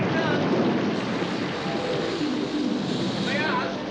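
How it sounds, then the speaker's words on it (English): Steady broadband rain hiss fills a stormy day, with low rumbling swells like distant thunder beneath it; voices briefly speak over the downpour. "Oh, it looks like we're in for a real storm."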